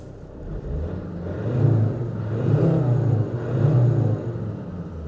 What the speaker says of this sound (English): it's a cracking old engine